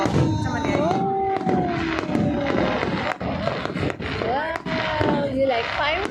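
New Year fireworks crack and boom in a dense, continuous barrage, with whistling rockets rising between the bursts and voices talking underneath.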